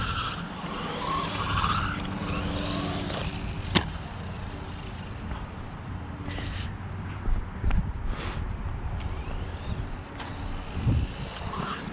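Kraton Sledge 1/14-scale mini RC car spinning its tires through small puddles, a whiny electric motor buzz with wet skidding and spray, moderately close, with a few sharp clicks and thumps.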